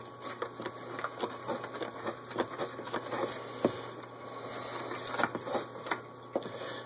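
Hardtack dough is stirred in a bowl, giving repeated close scraping and tapping knocks in an irregular rhythm, with no one speaking.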